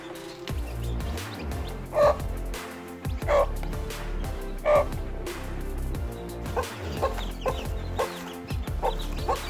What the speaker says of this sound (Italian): Sono 9 splendidi pulcini.